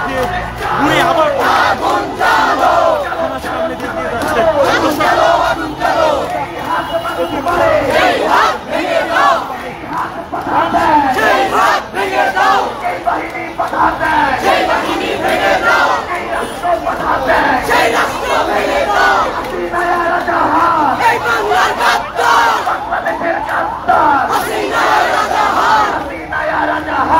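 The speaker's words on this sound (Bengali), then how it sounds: "ঢাকা বিশ্ববিদ্যালয় প্রাঙ্গণ থেকে একটি বিক্ষোভ মিছিল বের করে এটিএম আজহারুল ইসলামের যে মুক্তির পরে কিন্তু প্রতিবাদ মিছিল বের করছে" A street protest march near the Dhaka University campus: a large crowd chanting slogans in loud rhythmic unison, continuous and close, with scattered shouting and chatter underneath.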